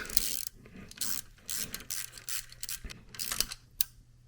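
Bolts on an E36 convertible being threaded in and snugged down with a ratchet, giving quick bursts of close, faint mechanical clicking in an irregular rhythm, with no talking.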